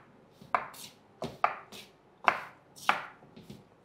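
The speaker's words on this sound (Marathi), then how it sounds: "असं मी तर छान साखरेसारखे ह्याला बारीक कापतो" A knife finely chopping soaked pistachios on a board makes sharp, close knocks in a loose rhythm, about five distinct chops with softer scraping between, no talk.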